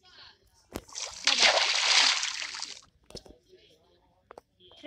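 Water splashes loudly for about two seconds as players jump into a swimming pool in Minecraft, followed by a few smaller sloshes and splats.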